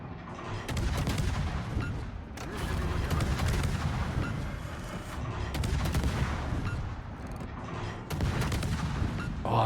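Naval gun salvos from the French destroyer Cassard in World of Warships, heavy booming volleys repeating every couple of seconds over continuous battle rumble, with no talk.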